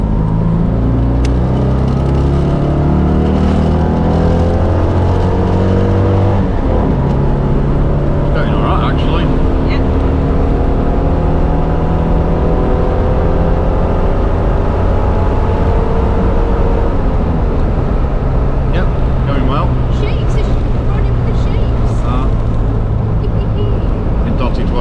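A Citroen 2CV's engine drones steadily while driving, its low harmonic hum rising and falling with revs over the whole stretch, with people talking over it inside the car.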